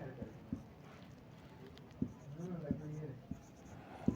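Pen scratching on paper while a math trick for squaring three-digit numbers is written out, soft scattered strokes and taps against a faint, steady room background.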